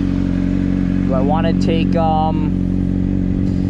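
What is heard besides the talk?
Honda CBR600RR motorcycle engine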